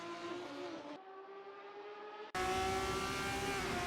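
Formula 1 race cars in a racing video game on the Sakhir circuit, engines screaming steadily as they run close together, with a sharp cut to a louder, higher-revving engine note near the end.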